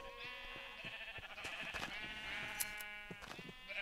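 In the Minecraft video game, a pink sheep bleats in a run of wavering, nasal calls over a few seconds, close and fairly steady, with no talking over them.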